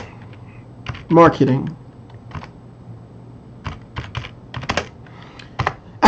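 Someone taps out a search on a computer keyboard in quick, uneven clusters of clicks near the microphone, with someone speaking briefly over the keystrokes.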